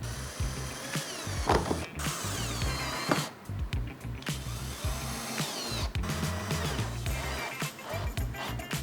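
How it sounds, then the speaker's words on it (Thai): A power drill whirs and ratchets continuously as it drives screws into a plastic crate being built into a storage table, with brief pauses and restarts of the motor, close and fairly loud. "ใช้สว่าน อ่าแล้วครับเดี๋ยวเราก็จะมาเจาะสกรูลงไปนะครับ"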